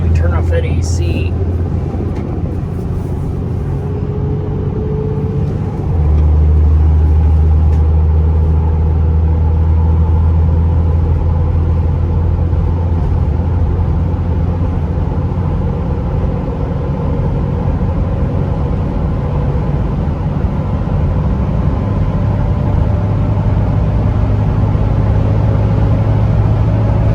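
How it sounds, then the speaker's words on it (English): A steady low drone of 35-inch Achilles Desert Hawk X-MT tires rolling on highway pavement from inside a moving truck, holding a constant level for the whole stretch. "They do have a little road noise"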